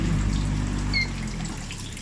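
Water trickling and flowing through the pump and pads of a repaired Iwata industrial air cooler, a soft, steady close-up dribble with a faint hum beneath.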